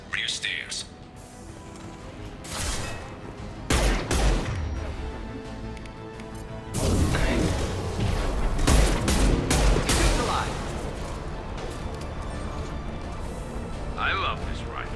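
Rifle fire in Mass Effect 2 during a fight with Eclipse mercenaries, sharp bursts of shots cracking out over a steady din of combat noise, with a voice talking through it.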